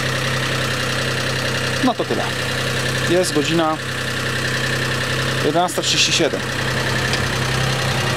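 An unmuffled cogeneration engine runs with a loud, steady mid-pitched drone and vibration, heard from close by, while someone talks over it.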